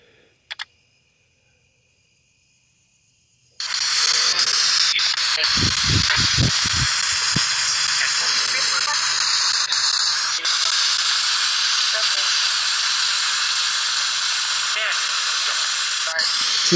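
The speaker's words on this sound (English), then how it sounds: "It's like a spirit box. It's a regular spirit box app almost." Sweeping static from a spirit box phone app during a cemetery investigation in Lafayette: after a faint start and brief silence, loud continuous hiss and radio-like noise bursts in and holds steady, with a few low thumps near the beginning.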